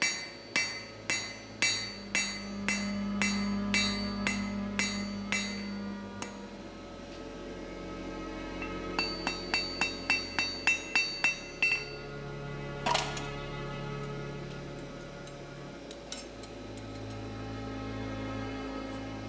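Hammer blows forging the steel box jaw of blacksmithing tongs, sharp ringing strikes in quick rhythmic bursts with pauses between, close and loud over a low workshop hum.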